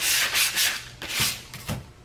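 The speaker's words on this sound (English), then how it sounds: "I'm just kind of scuffing the whole top of the camper" Sandpaper of 220 grit scuffing across the roof of a 6 x 10 cargo trailer camper, heard as a run of close, repeated rasping strokes in an uneven rhythm with short pauses between them.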